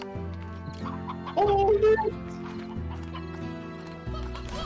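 Chicken clucking from the video game Slime Rancher, a brief burst of squawky clucks over steady layered game music, with a short spoken exclamation.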